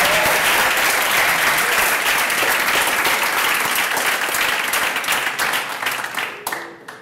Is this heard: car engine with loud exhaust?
no